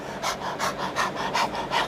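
A person imitates an animal panting, with about eight quick, even, rhythmic breathy huffs close to the listener.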